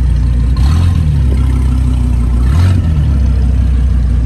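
A car's stock exhaust rumbles steadily up close, with two brief revs rising and falling, the second around the middle of the clip.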